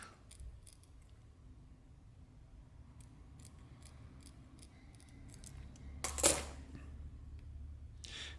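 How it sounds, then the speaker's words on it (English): Cutters snip back the fine wire between strung seed pixel LEDs, one sharp close snip standing out midway through a quiet room, with a few faint light clicks and handling ticks before it. "with a nice amount of wire here, I'm going to cut this back"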